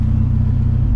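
A garbage truck on a street, its diesel engine giving a loud, steady low rumble close by, with no talk over it.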